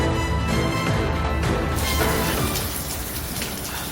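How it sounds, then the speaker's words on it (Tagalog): Heavy rain pours steadily near a house fire in Kapitolyo, Pasig, caught on a phone: a dense, continuous wash of drops hitting surfaces, loud and unbroken throughout with no voices. "Dinig pang pagbagsak ng ulan sa cellphone video ito ng isang residente malapit sa sunog sa Kapitolyo, Pasig kanina"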